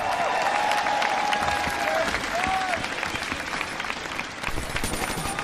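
A live esports crowd at a Game 5 winner bracket final between Team Envy and Team Elevate roars with sustained applause and cheering, loud and dense throughout, with a few whistles and shouts rising above the clapping.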